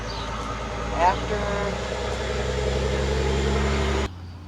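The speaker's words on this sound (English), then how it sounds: "I had a loud truck going by" A heavy vehicle's engine drones and rumbles steadily as it passes nearby, then cuts off abruptly near the end.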